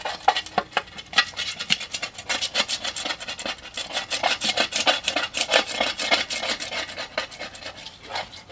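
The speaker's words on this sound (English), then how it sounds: "I use a glass cutting board for mixing my putty on. And then I just take a razor blade." A razor blade scrapes and mixes auto body putty on a glass cutting board, making rapid, close, rasping strokes in a steady rhythm that runs throughout without any talk.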